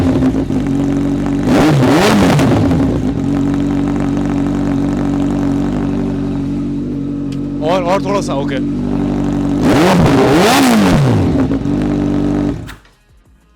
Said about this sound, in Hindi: तो ये है कावासाकी ZX14R की आवाज़